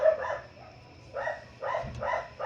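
A dog barks in short bursts, a few at a time with pauses between them, fairly close and clear, with faint low background noise underneath.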